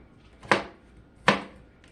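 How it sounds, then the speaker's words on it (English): A knife mincing half of a big onion on a cutting board, two separate sharp chops spaced under a second apart, close and fairly quiet with no talk. "I'm just mincing up the last of a half of a big onion"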